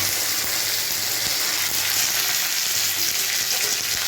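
Chopped ginger fries in hot oil for upma, giving a dense, even sizzle that stays close and loud throughout with faint occasional ticks.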